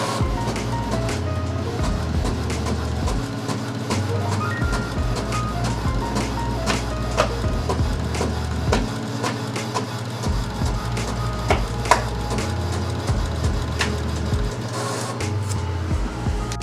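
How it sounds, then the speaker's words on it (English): A Sawgrass SG500 sublimation printer runs a print job, its carriage shuttling back and forth with a rhythmic mechanical whirr, soft clicks and ticks, close and continuous. "We'll let this go ahead and print out"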